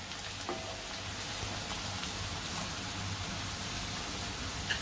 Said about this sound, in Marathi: कांदा चांगला शिजवून घ्यायचा आहे आपल्याला मऊ. आता आपला कांदा चांगला परतलाय.